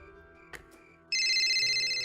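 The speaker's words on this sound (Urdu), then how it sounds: "گھنٹی متواتر بجتی رہی اور جاگنا ہی پڑا۔" A telephone bell rings as a sound effect in an audiobook: a couple of short taps, then a loud, sustained electronic ringing tone that starts abruptly about halfway through.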